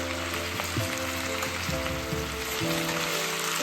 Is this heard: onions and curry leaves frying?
yes